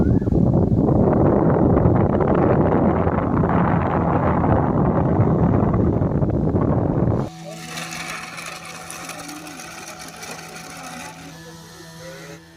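A homemade rechargeable fan runs at full throttle with a loud, steady whirring drone for about seven seconds, then cuts to a quieter hum with faint background sounds.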